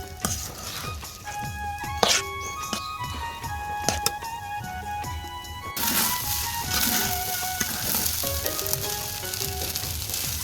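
Broken-rice biryani ingredients frying in a pot over a clay stove, a loud continuous sizzle that grows denser partway through, with occasional metallic clinks of a spoon against the pot.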